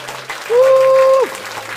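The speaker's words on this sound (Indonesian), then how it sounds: "Tepuk tangan sekali lagi buat Tuhan." A church congregation bursts into applause, a loud dense wash of clapping, while a sustained tone rings over it for most of the moment.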